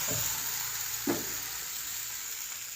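Rice batter for chakuli, Western Odisha style, sizzles steadily on a hot oiled pan, a faint continuous hiss with one soft scrape or tap partway through and no talking.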